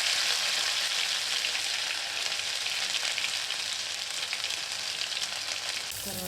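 Ginger and garlic sizzle steadily in hot mustard oil, a loud, continuous frying crackle that holds evenly, then shifts slightly at the very end.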